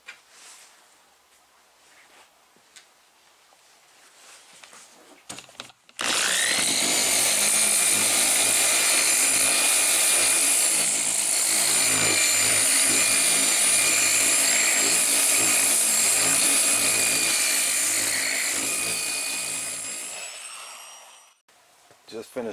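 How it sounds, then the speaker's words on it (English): A power sander working an 87 Chevy Monte Carlo SS G-Body car body down to bare metal, a loud steady high-pitched whine running close for about fourteen seconds, then winding down, with quieter handling noises before it starts. "So I'm gonna sand that down to bare metal."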